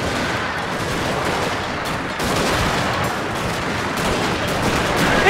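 Massed gunfire volleys from Marines in the strategy game Shogun 2, a dense, continuous roar of overlapping shots that stays loud for the whole stretch, with no talking.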